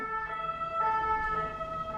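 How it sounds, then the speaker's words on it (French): An ambulance siren wails steadily at a moderate distance, its tones holding over a low road rumble for two seconds with no voices. "on laisse passer l'ambulance"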